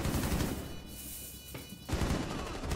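Gunfire in a ranked online shooter match, loud rapid shots rattling close by, dropping briefly before another burst of firing resumes.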